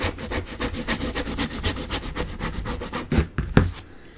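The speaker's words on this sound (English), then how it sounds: "turn it over and rub it from the back" A paper card pattern rubbed from the back by hand, a steady rhythmic back-and-forth scraping of about fifteen close strokes, ending with a couple of louder taps.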